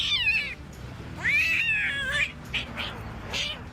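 Angry, feisty kitten meowing loudly close up, with several drawn-out rising and falling yowls and shorter cries over a low background hum.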